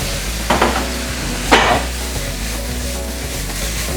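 Red onions and soy stirred in a hot frying pan, with a steady low sizzle under two brief scraping strokes of a utensil, close and alone.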